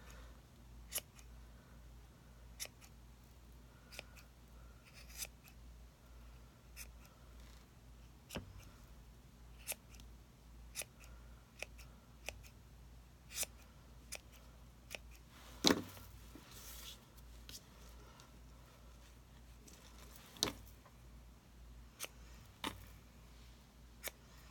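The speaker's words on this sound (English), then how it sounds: "I'm going to be careful not to cut that, but I'm going to trim up my pom-pom" Scissors make a scattered run of soft, sharp snips while trimming a craft pom-pom, the clicks irregular and close against a quiet background with no talk.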